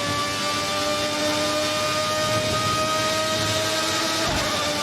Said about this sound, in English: How good is that engine sound though?